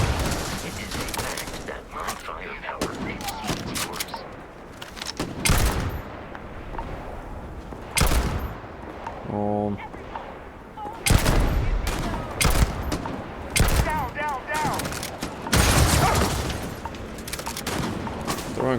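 Gunfire and grenade blasts in the game Starfield, with sharp, scattered shots and bursts coming in irregular clusters across the stretch, mixed with a few heavier booms and some talk between them.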